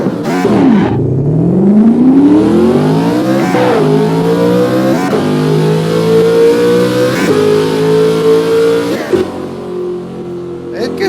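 A ZR-1 Corvette revs and accelerates hard, engine pitch climbing through several gear changes close by, with a brief chirp of tires laying rubber at the launch.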